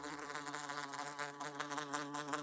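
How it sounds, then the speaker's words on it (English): A cartoon bee buzzes in a room, a steady close, droning whine that holds on throughout with no talk over it. "There's a bee in here."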